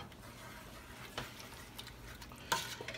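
A spoon stirs Sure-Jell pectin into crushed strawberries in a cooking pot for jam, giving soft scraping and a few sharp clinks against the pot over a quiet background.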